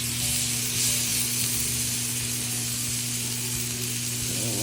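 Meat cooking in a pan with garlic and butter, giving a steady, loud, close frying sizzle and hiss that stays even throughout with no talking.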